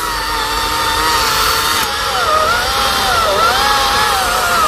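A chainsaw cuts through the trunk of an old lychee tree more than 20 years old, its engine droning loudly and steadily up close, with the pitch dipping and rising as the chain bites into the wood.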